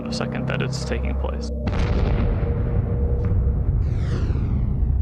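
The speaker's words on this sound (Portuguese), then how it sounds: "Ao sofrer uma explosão, o magnetar brilha mais que todas as estrelas na galáxia" A deep, booming explosion erupts midway and rolls on as a sustained rumble, loud and close, with a high whooshing sweep near the end.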